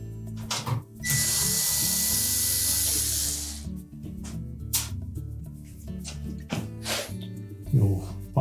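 Screws come out of the control box on a Whirlpool range, probably with a cordless power driver: a steady whirring buzz runs for a few seconds, followed by short bursts and light metallic clicks and taps nearby.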